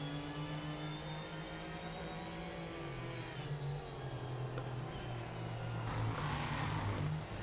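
A race car engine in the video game Project Motor Racing drones and shifts pitch through gear changes, steady and fairly quiet, with a whooshing pass near the end.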